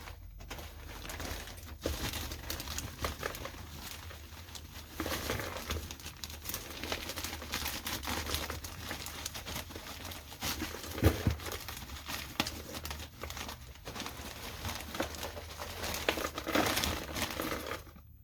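Paper bedding crinkles and rustles steadily as it is pushed into a snake rack tub, a continuous close, papery scratching and crumpling that keeps going with small louder crunches and no pauses.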